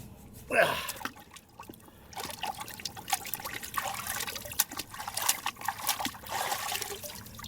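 Water splashes and trickles over an AR-15 magazine during a rinse, with an irregular running and dribbling flow that builds after a brief splash and goes on steadily, close to the listener.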